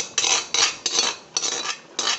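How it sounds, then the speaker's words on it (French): Crushed okra being added to a simmering sauce in a pot, heard as five sharp metallic scrapes and clinks of a spoon against the pot, each followed by a brief fading rasp. "J'ai écrasé le gombo, je vais le rajouter à la sauce"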